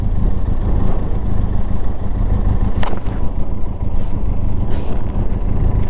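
A motorcycle engine rumbles steadily and loudly in second gear along a seaside road in Uruguay, with a couple of brief sharper noises partway through.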